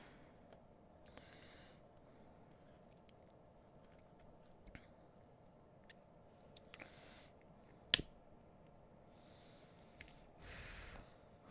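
Scissors snipping a necklace cord: a few faint, sparse clicks over a quiet background, with one sharp, louder snip near the middle and a brief rustle toward the end.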